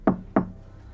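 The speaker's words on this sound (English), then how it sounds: "with a knock on the door" Two sharp knocks on a door, evenly spaced and close by, each a quick solid thud that dies away fast, followed by quiet.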